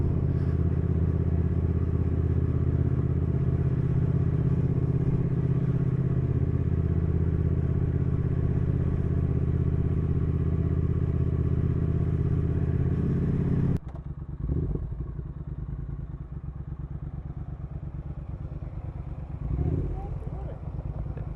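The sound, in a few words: Triumph Thruxton R motorcycle riding, engine noise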